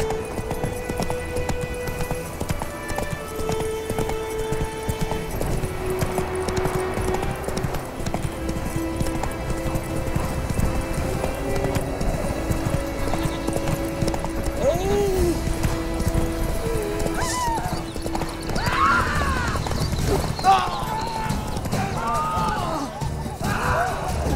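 Horse hooves clip-clop at a gallop through The Witcher 3, a steady rapid drumming that runs the whole time beneath in-game music and scattered effects, with a brief whinny along the way.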